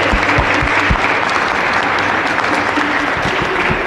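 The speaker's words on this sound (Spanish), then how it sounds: "Un aplauso más para nuestro Padre Miguel" Loud, dense audience applause for a priest at a birthday thanksgiving Mass, a steady wash of clapping with a few sharp nearby claps standing out, sustained throughout without a break.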